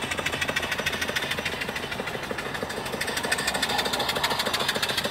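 Model steam engine with a flyball governor, 2-inch bore and 2.5-inch stroke, running on steam from a 12-inch boiler: a steady, rapid mechanical chuffing and knocking that stays close and even throughout, with no voices.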